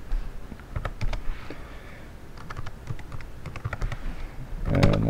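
Keys clatter on a computer keyboard as a password is typed in short, uneven bursts of close, crisp clicks, with a heavier thump of keystrokes near the end.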